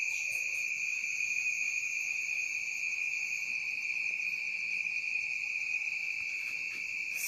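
Crickets chirp at night in the countryside of Lagoa do Sítio, a dense, shrill, continuous trill close by with steady pulsing, no voices over it.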